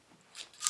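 A ratchet wrench tightens down a threaded fitting on a Citroen 2CV 425 engine, giving a few quick, faint metallic clicks close by that grow slightly louder toward the end.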